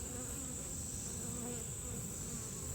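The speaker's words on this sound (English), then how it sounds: "There appears to be a lot of bees in here." Honey bees hum from an open Langstroth hive whose bottom box is crowded with bees, a steady close buzz that stays unbroken throughout.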